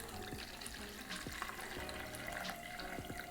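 Tap water running steadily into a measuring cup, 1.5 cups for a coconut rice broth, a continuous low splashing fill at moderate level with faint kitchen clatter.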